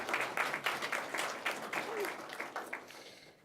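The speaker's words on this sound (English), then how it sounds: "Let's have a round of applause for all of our cumulative record district and state winners." A room of people applauds award winners at a county 4-H awards program, with scattered, uneven clapping that peaks and dips and then tapers off toward the end, a voice faintly mixed underneath.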